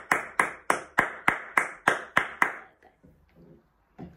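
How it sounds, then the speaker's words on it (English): A school celebration assembly with one person or a small group clapping in a steady, slow rhythm of about nine sharp claps, then a few faint sounds before a final clap. "A big clap too."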